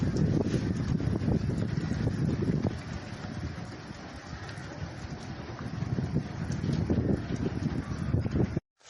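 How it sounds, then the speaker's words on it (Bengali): Strong outdoor wind buffets the microphone in Chattogram just after a brief rain, a steady, gusty low roar that fills the whole stretch with no voices. "বাতাসটা দেখেন।"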